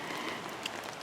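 Steady rain falls on a rural property during a prolonged wet spell, a dense even hiss of drops with no pauses, moderately loud and close, with no voices.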